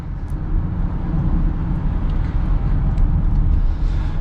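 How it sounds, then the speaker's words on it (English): Steady road and traffic rumble heard from inside a 2022 BMW X3 xDrive30i SUV while driving, with other vehicles passing at moderate, even loudness and no talking. "You can hear some of the traffic passing us"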